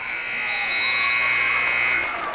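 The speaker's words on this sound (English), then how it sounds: "that's the sound of the buzzer of this first quarter" A basketball game buzzer ends the first quarter of a high school girls' game, one sustained loud electronic drone holding steady for about two seconds inside a gym.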